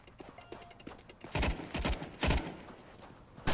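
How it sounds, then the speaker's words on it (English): Bursts of gunfire in CS:GO Danger Zone at a castle, several rapid shots clustered mid-clip with scattered quieter pops and a sharp report at the end, no voices. "Someone shooting, that's all."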